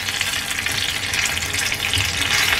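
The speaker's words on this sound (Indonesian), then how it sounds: "Jadi hati-hati kalian kalau goreng." Long green chilies frying in hot oil for a crispy dish, a steady dense sizzle with fine crackling, close and continuous and free of speech.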